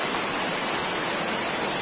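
Hamsala Kona waterfall, a constant broad rushing roar of falling water, steady and fairly loud throughout with no voices.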